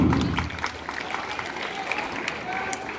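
An audience at a school Independence Day function applauds to welcome a speaker. The clapping is moderate and sits under faint background voices and room noise.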